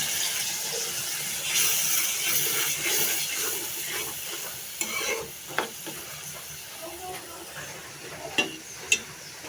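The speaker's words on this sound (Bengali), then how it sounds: "মশলাটা কষানোর জন্য বাটাটা দিয়ে পানি দিয়ে দিলাম।" Ground spice paste of turmeric, chilli and coriander with added water fries and hisses in a pan, a continuous steamy sizzle with scraping stirs and a few sharp utensil knocks near the end.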